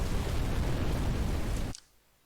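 A loud, dense explosion effect in a game level roars across the whole range for almost two seconds, then cuts off abruptly into near silence, with no voices.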